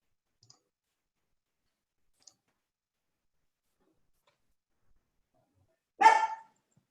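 A puppy gives a single short bark during an online meeting after near silence broken by a couple of faint clicks, the bark loud and close.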